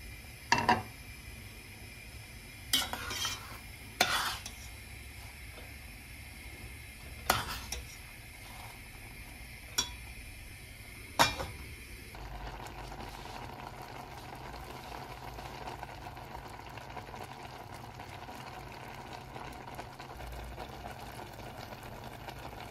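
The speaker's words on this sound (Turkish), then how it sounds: "Şimdi tenceremi ocağa götüreceğim, altını açacağım ve mercimeklerimi pişirmeye başlayacağım." A pot of lentils is set on a stove and starts to cook. Sharp clanks and knocks of the pot and utensils come first, then a soft steady hiss of heating continues under quiet room sound.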